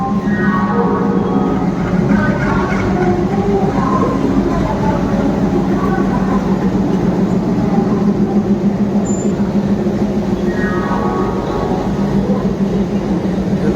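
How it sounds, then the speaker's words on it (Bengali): The 13053 Howrah–Radhikapur Kulik Express with new LHB coaches rolls into a Howrah station platform with a loud, continuous rumble and clatter of wheels. A long horn-like tonal blast rises at the start and again near the end. "প্ল্যাটফর্মে ট্রেন ঢোকার মুহূর্তে যে এক্সাইটমেন্টটা থাকে না"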